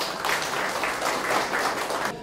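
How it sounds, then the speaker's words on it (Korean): An audience at a digital art exhibition at an arts centre applauds a veteran painter, a dense, lively round of many hands clapping that holds steady before cutting off abruptly at the end. "우리 좀 큰 박수 한번 쳐주십시오"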